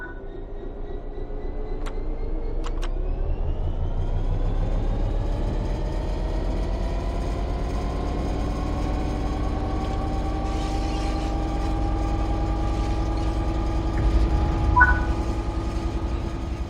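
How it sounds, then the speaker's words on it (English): A passenger train in Train Sim World 3 on Xbox Series X starts to move under throttle: an electric motor whine climbs steadily in pitch as it gathers speed, with a low rumble underneath and a faint click near the start. "Apply some throttle to get the train moving."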